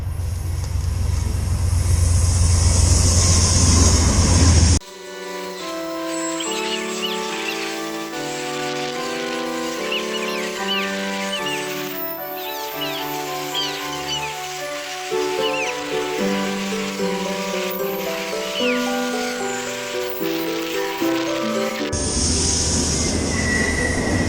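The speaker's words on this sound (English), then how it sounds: "I see a train." Train rolling past on railroad tracks, wheels squealing loudly in sustained shrill tones for most of the pass, very near and overpowering, with a heavy rumble before and after.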